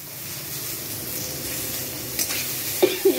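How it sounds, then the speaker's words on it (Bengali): Salted spices are stirred in a hot frying pan under a constant hissing sizzle, with a few soft scrapes of the spoon near the end and no voices. "এবার একটু নাড়াচাড়া করে নিয়ে"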